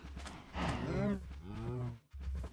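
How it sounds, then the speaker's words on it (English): Cows in the video game Minecraft give a couple of loud, low, drawn-out moos close by, one after another with a short gap. "I'm gonna kill that cow."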